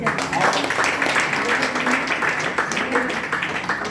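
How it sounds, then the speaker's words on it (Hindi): A crowd applauds a speaker at a DXN business meeting in Bihar: dense, continuous clapping that blends into a steady wash of sound, with voices mixed in underneath. "तो सर के लिए फिर से जबरदस्त ताली।"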